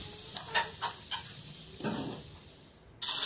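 Cashews frying in hot oil for homemade kara mixture, soft sizzling hisses that rise in several short bursts over a quiet background.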